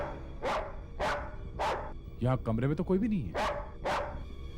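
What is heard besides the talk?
dog barking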